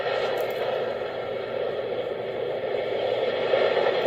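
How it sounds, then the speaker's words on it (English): A white noise sleep machine plays its ocean setting as a steady, broadband wash with gentle swells in level, close and continuous with no voices. "Then we have the sound of the ocean."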